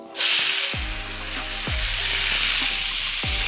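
Lean ground beef sizzles loudly in a hot pan, a steady close frying hiss with a few low thumps from stirring, no talking.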